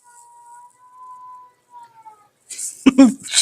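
A cat meows indoors, a thin drawn-out tonal cry followed by a louder yowl, with people talking nearby.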